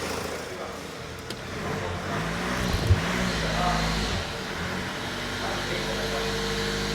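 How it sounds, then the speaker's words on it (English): A 2006 Mercedes Viano with an alternator that isn't charging is revved, its engine note swelling briefly over a steady idle hum while a voice talks nearby. "once we gave it a rev, we're now up to 14 volts"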